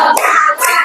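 Hands clap together in a classroom clap chant, a quick burst of loud, sharp claps, then a brief dip and another short flurry, close and dense with no talking.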